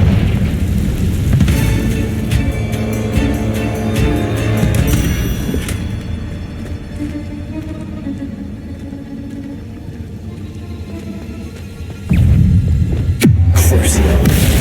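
A Confringo spell explosion in Hogwarts Legacy bursts out with a deep booming rumble and sustained low throbbing, fading into a hum before a second loud blast hits near the end, with a voice shouting over it.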